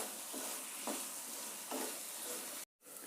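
Potatoes fry in oil in a pan over medium-low flame, a steady close sizzle broken by a few stirring scrapes before a brief cut.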